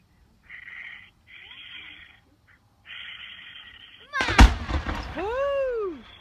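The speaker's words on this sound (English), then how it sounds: "Pyro Super Brocade Crown with red and green swimming pistol" A Pyro Super Brocade Crown firework shell with red and green swimming pistols bursts with a sharp boom, followed by rising and falling whistling squeals, as people talk excitedly outdoors.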